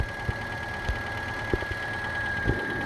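A car engine idles steadily after a jump start from a booster cable, a low continuous hum with a faint high whine and a few soft knocks. The hum holds at a constant level throughout, close by, with no one talking.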